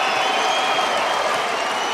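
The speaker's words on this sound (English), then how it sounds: "This crowd on their feet, saluting both teams." A basketball arena crowd at the 2006 NBA Euroleague preseason exhibition, Maccabi Tel Aviv at the Toronto Raptors, applauds both teams in a steady, dense roar of clapping and cheering that holds unbroken and loud throughout.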